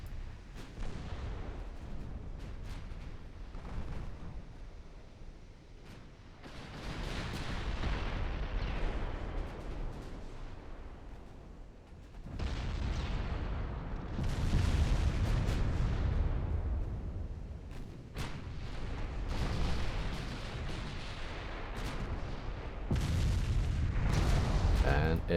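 Naval gunfire in the warship game Ultimate Admiral: Dreadnoughts, with repeated heavy booms and rolling blasts coming in uneven bursts over about twenty-five seconds. Some are near and loud, others duller and farther off, with a voice talking faintly beneath.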